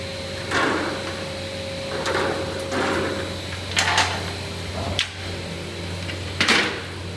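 A TS-J39 PQJ automatic picture frame cutting machine cuts 70x100cm PS frame moulding, giving repeated sharp cutting strokes about every second and a half over a steady mechanical hum, close by.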